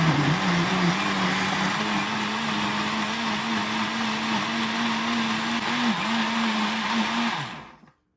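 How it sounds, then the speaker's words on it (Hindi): A kitchen grinder blends soaked bread with milk and four eggs, a loud steady whirring drone with a wavering motor pitch that runs alone for several seconds before winding down and cutting off. "4 अंडे हमने इसमें डाल के अच्छी तरह से ग्राइंड कर लेना है"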